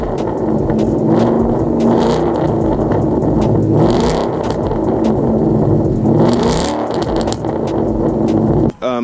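A car exhaust with a performance H-pipe, straight piped with stock tips and no mufflers, rumbles loud and close with continuous rough revving and throttle swells, no talking.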